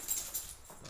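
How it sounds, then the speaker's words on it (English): A dog's collar jingling indoors: a brief, faint metallic tinkle of tags lasting under a second, with no talk over it. "That's my dog, his collar, if you could hear that."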